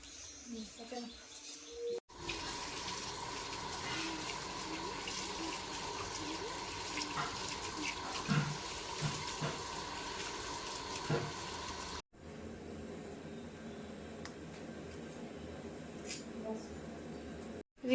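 Freshly picked vegetable stalks are rinsed under a running tap, a steady rushing flow of water with occasional splashes and clatter, broken by a brief cut partway through, with birdsong and a voice in the background.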